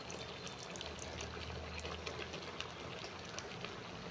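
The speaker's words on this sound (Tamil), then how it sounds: "கொஞ்சமாக புளி தண்ணி ஊற்றிக்கலாம்" Tamarind water pours gently into a pot of sambar, a soft trickling splash heard close and fairly quiet, with faint background noise.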